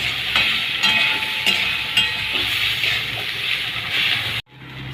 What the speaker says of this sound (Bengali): সোয়াবিনটাকেও একটু ভেজে নেব।